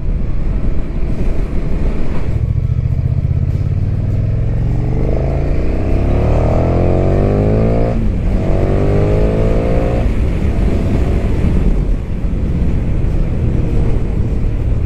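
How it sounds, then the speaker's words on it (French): A 2020 KTM 1290 Super Duke R engine accelerates hard, its roar rising through repeated upshifts with pitch climbing and dropping between gears, heard close over strong wind noise while riding. "J'accélère à peine, je suis déjà à 120"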